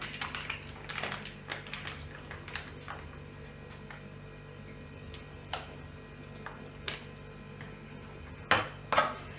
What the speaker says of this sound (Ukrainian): Перемішуємо до однорідної маси.